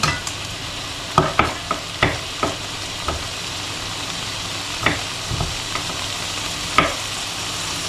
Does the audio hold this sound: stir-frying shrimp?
yes